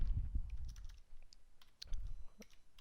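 Light, irregular clicks of typing on a computer keyboard, fairly quiet and close, in short scattered bursts with no voices.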